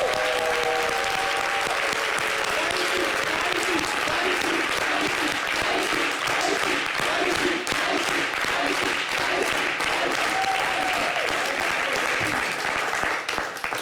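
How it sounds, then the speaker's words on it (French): A studio audience applauds at a televised talk show, with dense, sustained clapping that stays loud and even throughout, while faint voices speak underneath. "Alors, je vais demander d'applaudir."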